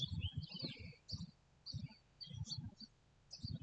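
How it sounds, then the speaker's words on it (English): Birds chirping outdoors: small, high twittering calls come and go in short bursts across the stretch, with soft low thumps and handling noise nearby. "you hear birds chirping and other noises, it's because I'm outside"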